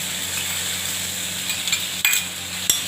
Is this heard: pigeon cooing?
no